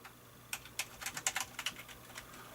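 Keys clatter on a ZX Spectrum 128k toast-rack keyboard, a run of about a dozen quick, light taps close by, irregular in rhythm, with no talk over them.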